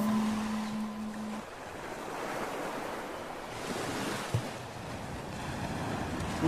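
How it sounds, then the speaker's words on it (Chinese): Ocean waves rolling onto the shore, a steady broad wash of surf with gusty wind noise throughout, no voices. "我在听海的声音"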